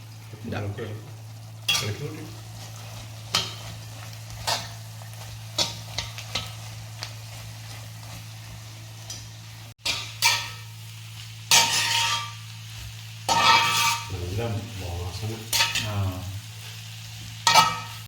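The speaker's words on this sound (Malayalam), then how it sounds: "പപ്പായ ആഡ് ചെയ്യാൻ പോവാണ് മെയിൻ ഇൻഗ്രീഡിയൻറ്റ്" Green papaya pieces for pickle are fried and stirred in a pan, giving a steady low sizzle broken by repeated scraping strokes of the spoon, some louder and longer toward the end, close up with almost no talk.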